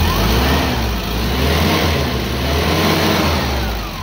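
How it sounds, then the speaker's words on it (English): A Doosan K25 engine, just repaired after a coolant temperature sensor failure, revs up with a loud, steady mid-pitched drone that swells and eases slightly, heard close and alone. "Engine revs up fine."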